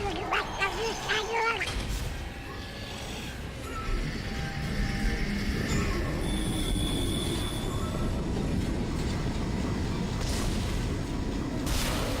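Tram pulling in on rails inside the Dead Space video game, a steady rumbling, rolling mechanical drone with faint squealing, running continuously and loud near the listener after an opening burst of clatter.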